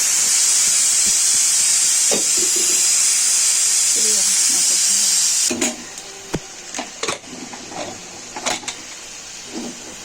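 A pressure cooker with kachori in a chicken curry vents steam in a loud continuous hiss for about five seconds, then stops, followed by scattered clinks and rattles of kitchen handling.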